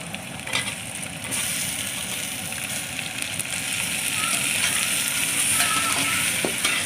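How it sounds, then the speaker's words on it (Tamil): Sliced onions and green chilies sautéing in a pan for mint chicken biryani, a loud, steady sizzle that starts abruptly and holds, with occasional stirring scrapes and faint voice. "மூணு வெங்காயம் கட் பண்ணி வச்சுருந்தேன் நீட்டு வாக்கில் அது போட்டுக்கிறேன் பாருங்க இதெல்லாம் வதங்கட்டும்"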